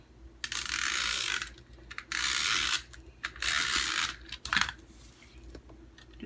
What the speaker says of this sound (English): we're going to use our snail adhesive to do that